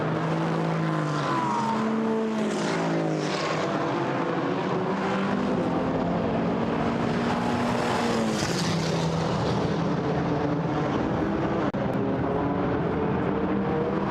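GT4 European Series race cars power down toward Hawthorns at Brands Hatch, a loud continuous engine roar with rising and falling pitch sweeps as cars pass close by, dense and unbroken throughout.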